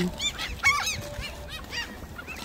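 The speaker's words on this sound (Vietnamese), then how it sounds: "mình cho mấy con chim hải âu nó ăn bánh mì" Seagulls at a lake being fed bread call in a series of short, harsh squawks and cries, several overlapping at close to middle distance over a steady outdoor background.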